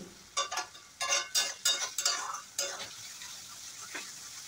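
Chicken being stir-fried with spices in oil in a pan, with steady sizzling and repeated scraping strokes of a spoon against the pan, close and fairly quiet.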